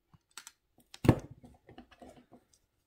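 Wire snipped with cutters while working a woven wire pendant, a few light clicks and one sharper close snap near the middle, with faint handling ticks after, no talk.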